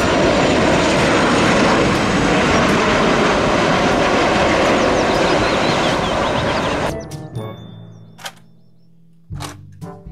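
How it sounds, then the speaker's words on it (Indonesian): A toy airplane gives off a loud, continuous roaring engine noise that runs steadily for about seven seconds and then cuts off abruptly, followed by a few brief knocks and clicks. "Pesawat terbang."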